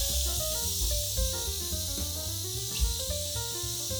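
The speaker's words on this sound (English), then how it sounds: "you're going to get a lot of steam coming out of here and you might get burned" Steam vents from the pressure release valve of a Ninja Foodi pressure cooker steam fryer after cooking BBQ baby back ribs, a steady continuous hiss running beneath louder background music.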